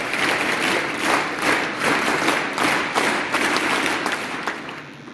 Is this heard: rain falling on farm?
no